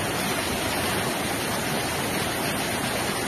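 Floodwater from an overflowing stony creek near a mill roars past in a dense, unbroken rush, loud and close, covering the stone roads at a village after heavy flooding in Zonguldak.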